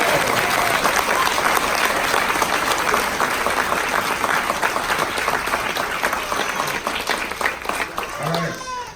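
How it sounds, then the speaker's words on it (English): A crowd at a 2019 U.S. naturalization ceremony applauds the new citizens with a loud, sustained wash of clapping that fades slightly near the end as a voice begins. "let's give another round of applause for all of them."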